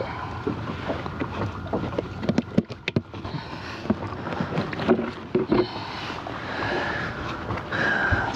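A 1979 Evinrude 35 hp outboard motor runs on a small boat on open water, its steady drone mixed with wind buffeting the microphone and a few sharp knocks, without ever climbing to a full-throttle roar.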